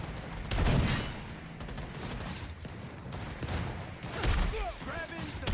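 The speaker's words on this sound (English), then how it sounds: "Using a shotgun!" Shotgun blasts ring out in a Cyberpunk 2077 firefight: several sharp, loud reports at irregular intervals amid combat noise, with a voice briefly heard near the end.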